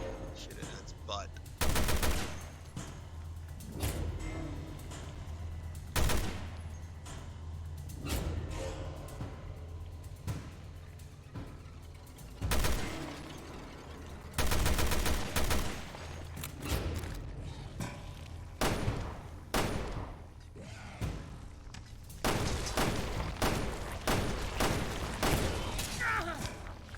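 Gunfire in the video game Resident Evil: Revelations 2, loud single shots and short bursts spread through the clip over a low in-game rumble, with a player talking in between.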